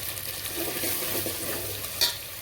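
Dry spices roast in oil for a spicy crab curry, giving a continuous close sizzle and frying hiss with stirring scrapes and one brief clink near the end. No talking.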